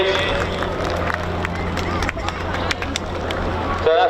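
Air show crowd at the RAF Coningsby families day cheering and clapping for the display jump master, a steady outdoor roar of voices with whoops and applause over a public address voice.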